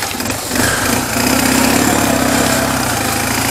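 Motorcycle engine running in winter cold, a loud, close, steady mid-pitched engine drone that holds throughout with a slight dip near the start and no speech.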